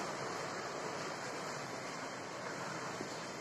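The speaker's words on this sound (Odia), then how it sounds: "ଦେଖନ୍ତୁ ସନ୍ଧ୍ୟାବେଳେ ପବନ ଦଉଛି ଆମ ଲିମ୍ବ ଗଛ କେମିତି ପତ୍ର ସବୁ ଦେଖନ୍ତୁ" Steady evening wind rushes through the leaves of a neem tree outdoors, a continuous broadband hiss with no distinct gusts, moderately quiet and unbroken throughout.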